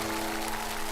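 Studio audience applause on a Chinese variety talk show, a steady dense wash of clapping that fills the whole moment without a break.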